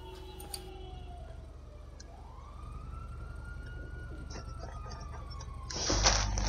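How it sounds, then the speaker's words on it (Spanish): A siren wails steadily in the distance, its tone rising and falling slowly over a low rumbling background, with a brief louder burst of noise near the end. "Oh, no, escucho sirenas"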